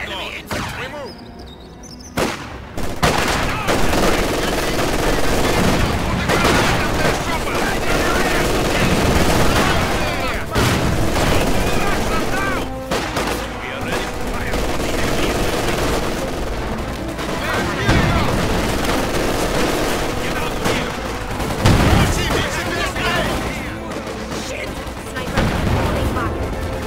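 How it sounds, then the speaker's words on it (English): Enemy gunfire in Company of Heroes 2 rattles almost nonstop, loud machine-gun bursts and rifle shots mixed with heavy booms and thuds of battle, with voices occasionally calling out beneath the din. "Enemy fire!"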